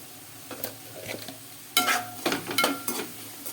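Onions and chana dal fry in a pan with curry leaves and salt, giving a steady soft sizzle broken by scraping stirs and light clinks of a spoon against the pan.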